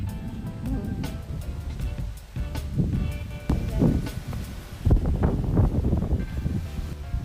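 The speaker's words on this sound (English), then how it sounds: "It's really windy, breezy, windy" Strong wind by a pond buffets the microphone in a steady, loud rumble that swells and gusts throughout, with muffled voices faintly underneath.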